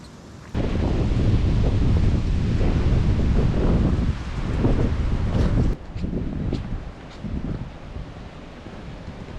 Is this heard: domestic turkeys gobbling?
no